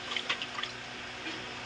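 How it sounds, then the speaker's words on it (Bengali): Water poured in measured amounts into a pot on a gas stove while cooking with fried onions, a brief, close, steady splashing pour. "মেপে মেপে জল দিতে হবে।"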